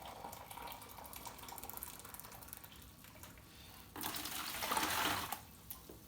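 Boiling water from a kettle is poured into a sterilised bucket, a soft trickle that swells into a fuller, louder gush for a couple of seconds before tapering off.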